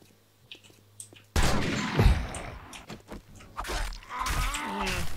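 A weapon fires in the 7 Days to Die video game, a sudden loud blast followed by rumbling echoes and further bursts of noise, with a man grunting amid the din.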